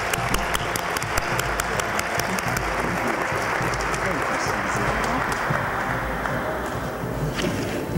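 Audience applause at a speaking event honoring the founders of Spectrum Human Services, dense sustained clapping from a large crowd with sharp individual claps on top, loud and unbroken, with voices faintly underneath.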